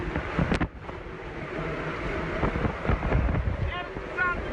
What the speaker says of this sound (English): it's the sound of a Category 4 hurricane